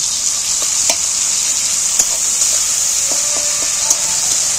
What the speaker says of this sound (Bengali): আদা রসুন তেলের মধ্যে টমেটোর মধ্যে তুলে দিন।